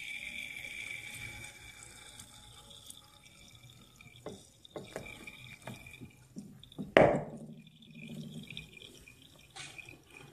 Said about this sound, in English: Alright, so I'm going to start the water now, and the water is mixed with food coloring, blue food coloring